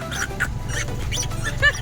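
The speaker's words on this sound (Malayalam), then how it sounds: "ഇവിടെ ഒരു ഹസ്കി വളർത്തുന്നുണ്ട് ഗൈസ്" A husky gives a few short, high whines and yips close by over a low background hum.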